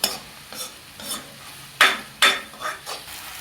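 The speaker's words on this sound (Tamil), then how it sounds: "இஞ்சி பூண்டு தக்காளி எல்லாம் பச்சை வடை வரையில் போகிற வரையில் நல்லா வதக்கணும்னா தான் நல்லா டேஸ்ட் இருக்கும் சில்ல சில்ல வதக்கிக்கலாம்" Ginger, garlic and tomato sautéing for prawn thokku, heard as a string of separate spoon scrapes and clinks against the pan over a low sizzle, close up, with two louder strokes in the middle and no voices.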